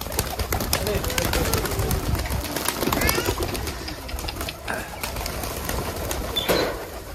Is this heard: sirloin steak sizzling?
no